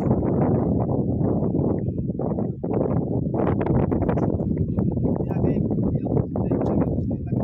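Loud, continuous wind buffeting the microphone by mangroves on Purple Island, Qatar, a dense low roar with gusty surges throughout and no clear pauses.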